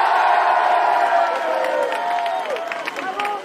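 Crowd at a political rally in the Vaucluse jeers loudly, a sustained mass of voices with rising and falling boos and whoops close by, fading slightly toward the end.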